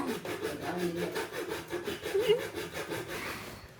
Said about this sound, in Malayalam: ബക്കറ്റിന്റെ മുകൾ ഭാഗം നമ്മൾ കട്ട് ചെയ്ത് കളയണം